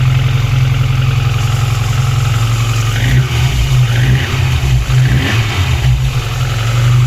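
A VAZ 2115 car engine idles smoothly and loudly up close after a cylinder head repair on a compression fault, a steady low hum with some mechanical rattling partway through.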